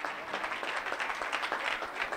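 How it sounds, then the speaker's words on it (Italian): Audience applause fills a prize-giving ceremony for the Coppa Città della Pace 2017 in Rovereto: steady, dense clapping from many hands, fairly close and even throughout with no pauses. "Applausone"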